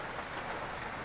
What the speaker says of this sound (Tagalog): Nakikita nyo naman guys, malakas ang ulan ngayon.